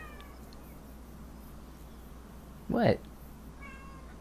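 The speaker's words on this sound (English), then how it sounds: "That was my cat, by the way," A single orange cat meows once, close and fairly loud, breaking into an otherwise quiet indoor room; a voice speaks briefly near the start.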